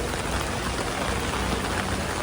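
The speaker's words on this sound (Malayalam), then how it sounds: "മഴ കൂടി." Heavy rain falls on a crowded Mumbai street at a bus queue, a dense, even hiss of downpour close by with no voices.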